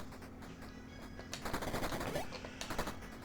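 Rapid bursts of gunfire from a light gun shooter video game, loud and cracking, clustered in two dense volleys after a quieter opening, with no talking.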